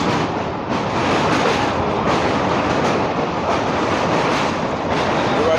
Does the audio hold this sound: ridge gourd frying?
no